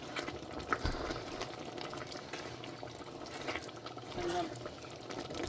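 A pot of vegetable curry with onions simmers as its water cooks off, giving a soft, steady bubbling hiss that stays faint and close.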